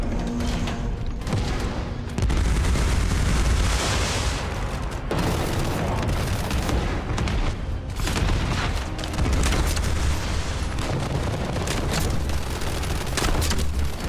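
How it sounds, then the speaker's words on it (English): Heavy, booming sniper rifle shots ring out in a video game, loud and repeated with deep low-end thumps over a dense, continuous backdrop of game noise. "Screw it, we're sniper rifling his knees."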